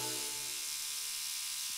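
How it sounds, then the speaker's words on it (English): An electric toothbrush in a children's cartoon gives a faint, steady buzzing hum that runs the whole short stretch with no speech over it. "That's your father's toothbrush."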